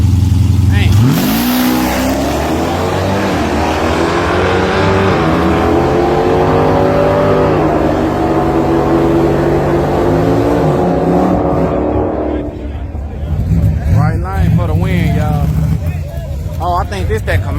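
A Chevrolet Camaro engine revs loud and close, its pitch climbing and holding in sustained rising pulls before dropping off, with people talking over it throughout.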